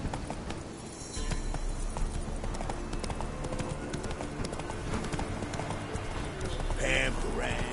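Galloping horse hooves in The Witcher 3, a steady rhythmic clip-clop close by with a brief whinny near the end and a voice talking over it.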